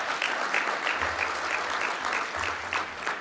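An audience at a county executive's State of the County address claps in sustained, even applause, a steady patter of many hands lasting several seconds.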